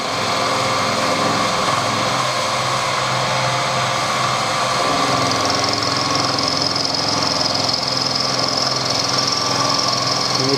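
A milling machine spins a carbide cutter at 1500 RPM in conventional milling, giving a steady, loud mechanical whine and hum that continues without pause, its pitch shifting slightly partway through the cut.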